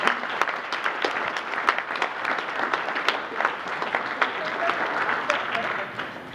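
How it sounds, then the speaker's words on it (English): Wedding guests at a valima reception applaud Sharmeen and Naveed, a steady round of crisp clapping from a nearby crowd, with some voices faintly underneath. "a round of applause to Sharmeen and Naveed for coming together in this beautiful union"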